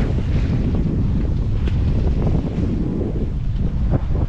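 Strong wind buffets a sailboat on the Gambia River in about 16 knots of headwind with choppy water, a dense continuous roar dominating throughout with no voices.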